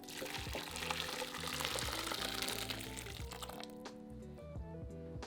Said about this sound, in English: pour the sauce over the lamb shanks in the slow cooker